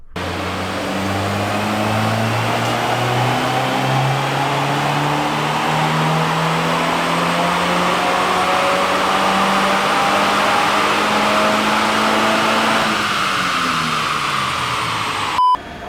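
A stock VA Subaru WRX on a Cobb off-the-shelf 91-octane tune makes a loud, sustained dyno pull, its engine note climbing steadily for about thirteen seconds before it abruptly drops off and winds down.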